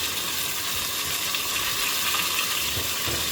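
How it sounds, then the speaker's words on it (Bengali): A spoonful of ginger-garlic paste fries in a pan for a shrimp and Malabar spinach dish, giving a constant, close, even hiss without talking. "এখন দিয়ে দিব 1 চামচ আদা রসুন পেস্ট"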